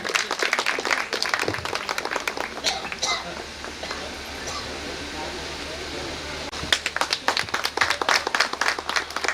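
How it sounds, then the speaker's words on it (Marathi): Crowd applause at a Shiv Jayanti celebration, bursts of clapping that thin out in the middle and surge back strongly near the end, mixed with murmuring voices and background hum. "त्यांच्यासाठी जोरदार टाळ्या होऊन जाऊ द्या"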